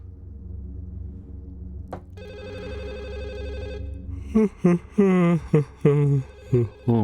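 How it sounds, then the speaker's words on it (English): A telephone rings with a steady electronic tone for a couple of seconds, close and clear, then a voice starts talking over the quiet that follows. "Let's answer the phone."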